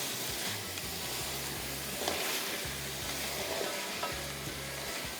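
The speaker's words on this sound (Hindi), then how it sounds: "थोड़ा सा इसको और भुनेंगे।" Chicken, potato, onion and tomato gravy for Bombay biryani fries in a pan, sizzling steadily while a spatula scrapes and stirs in repeated strokes, close and continuous.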